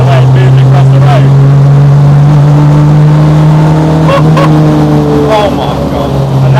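Inside a rally car cruising at about 50 mph on a public road, a loud, steady engine drone and road rumble fill the cabin continuously with little change in pitch.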